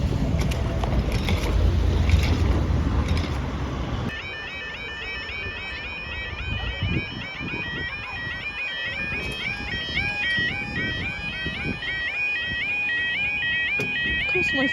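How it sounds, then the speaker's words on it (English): A level crossing barrier at Topsham, Devon, rumbles and creaks as it moves, then a repeating two-tone electronic warning alarm sounds steadily over the mechanical noise. "Oh, this barrier's a bit slow."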